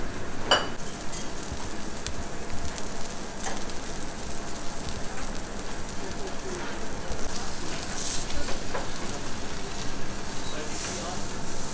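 A steak seasoned with garlic salt and onion granules sears in a hot pan at a London restaurant, giving a loud, steady, close-up sizzle that runs unbroken, with faint clinks of a utensil now and then.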